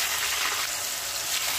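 Tofu frying in hot oil, a steady close hiss and crackle of sizzling that holds evenly throughout, with no talking.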